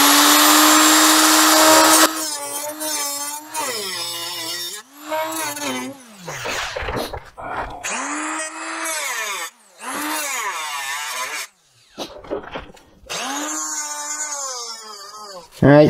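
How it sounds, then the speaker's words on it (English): A power tool grinds into metal to cut out spot welds and a weld bead, loud and harsh at the start, then in short bursts while someone talks over it. "I've got a weld bead here and a weld bead down there that I'm going to cut out."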